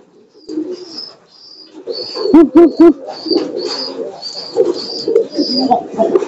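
Young pigeons (piyik) cooing close by: soft, low throaty coos come in bursts, with a few stronger pulsing coos in quick succession, over high thin squeaky peeps that repeat throughout.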